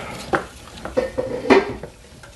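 A wooden spoon scrapes and knocks against the bottom of a pot while a flour roux is stirred, with several distinct clunks and scrapes spaced irregularly, close and moderately loud.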